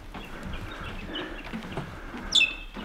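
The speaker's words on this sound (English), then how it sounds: "You can hear the birds." Wild birds call at Cradle Mountain, Tasmania, a few faint chirps scattered over quiet outdoor ambience, with one sharper, brighter call standing out near the end.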